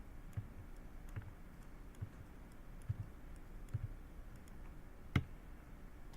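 Typing on a computer keyboard during Java programming work: sparse, soft key clicks and taps at an uneven pace, one louder click near the end, close and quiet with no talk.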